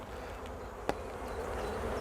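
A soft, steady buzz of honey bees hums throughout, with a brief tap partway through.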